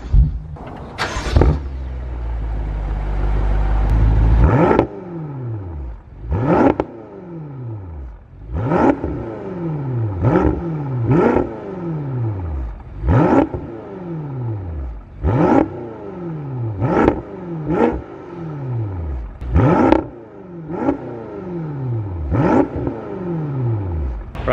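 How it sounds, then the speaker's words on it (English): A BMW F10 M5 Competition with an Eisenmann exhaust starts with a loud crank and flare, then settles into a burbling engine note broken by repeated sharp revs, each rising and falling back, close and loud. "we'll turn on the car"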